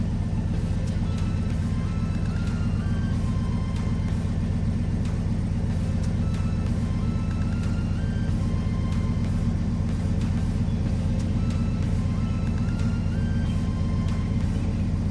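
Pickup truck engine idling steadily after its first start in two weeks following a break-in, a loud continuous low rumble running alone throughout.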